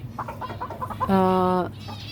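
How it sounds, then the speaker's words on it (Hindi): Aseel chickens on a rooftop, with several short clucks followed by one longer, louder, drawn-out squawking call, then a few more soft clucks, close by. "कौन सी मुर्गी? असील मुर्गी"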